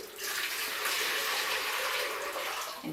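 Water poured steadily into a bucket, about two litres, a continuous close rushing splash that lasts throughout with no speech over it.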